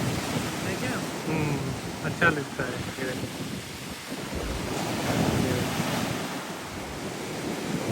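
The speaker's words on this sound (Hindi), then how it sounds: "तो पानी की लहरें भाई कितनी अच्छी लग रही है।" Sea waves wash in at Horsey beach in Norfolk, England, a steady surf roar with wind buffeting the microphone, close and continuous, while someone talks over it.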